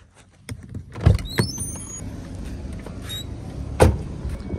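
A car's power window whirs as it closes, amid a few clicks and thumps from inside the parked car, then a sharp knock near the end.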